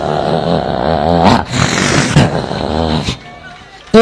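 A man vocally imitates a male dog's growl, a long, rough, rumbling vocal snarl delivered close and loud in pulsing stretches with brief breaks, ending in a short burst.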